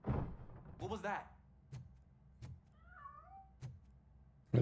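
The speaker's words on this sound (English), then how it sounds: "There's a damn cat." Cat in the video game Robocop: Rogue City: a short meow with wavering pitch, set among dull thuds and door-like knocks, with a faint chirpy call later, fairly quiet and close.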